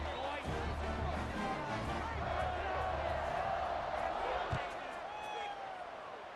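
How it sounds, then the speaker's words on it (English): A college football stadium crowd buzzes with a steady, dense roar after a score, broad and continuous with scattered shouts rising out of it. "this crowd is buzzing after that last score"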